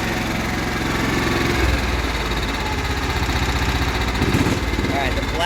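Cub Cadet 1330 lawn tractor engine running close by, a loud steady chugging idle with rhythmic pulsing and brief surges.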